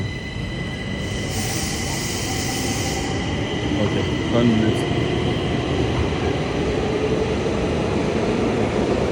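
Steady low rumble of a train at Chennai Central station with a faint high whine, while a person speaks briefly nearby.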